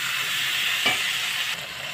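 A pangas fish curry being stirred and fried down on a low gas flame, a steady close sizzling hiss running throughout with a brief scrape of stirring near the middle.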